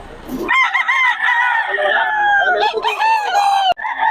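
Roosters crowing amid chickens at a poultry market in Bocaue, several long loud overlapping crows close by, with clucking and brief human voices around.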